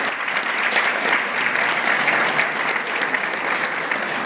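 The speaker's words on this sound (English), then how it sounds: "We give him a big round of applause for giving us such a presentation" Dense, continuous applause fills the hall after a medical presentation at a Sharada Pooja lecture gathering, an even roar of many hands clapping throughout.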